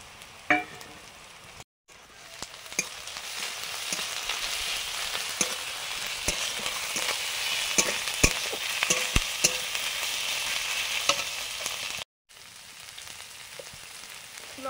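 Garlic and ginger fry over low heat in a pan, giving a steady close sizzle with scattered scraping stir strokes and spatters, interrupted by two brief silent gaps.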